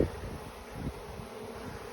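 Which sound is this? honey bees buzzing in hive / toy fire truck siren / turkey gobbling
honey bees buzzing in hive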